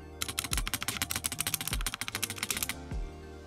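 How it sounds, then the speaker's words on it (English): A TES68 mechanical keyboard with rattly stabilizers is typed on in a fast, loud burst of clacky keystrokes, with a few deeper rattling thuds from the larger keys, close up and with no talk. "It's pretty rattly, and you definitely need to loop them to make them fit better."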